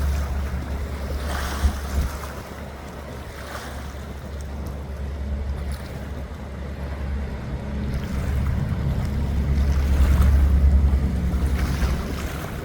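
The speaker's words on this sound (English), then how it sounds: "It's a paddle boat from the American West Fleet. They do tours on the Columbia River here in Astoria" Water and wind on the Columbia River at Astoria during a boat cruise, with a steady rushing wash and heavy wind buffeting on the microphone that swells louder toward the end.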